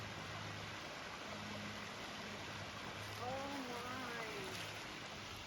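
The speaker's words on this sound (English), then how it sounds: "Got a waterfall inside the mountain." A waterfall pours inside a mountain along the Pinhoti Trail in Alabama and Georgia, a steady close rush of water that fills the whole clip, with a voice briefly heard over it.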